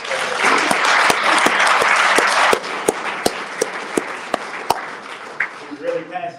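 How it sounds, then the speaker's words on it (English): Loud applause from an audience at a peace march event, dense at first and then thinning into scattered individual claps, with a voice starting up near the end. "Can we give another round of applause?"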